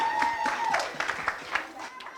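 Wedding guests clapping during a speech, a short burst of scattered applause in a reception room, fairly close and moderately loud, fading toward the end.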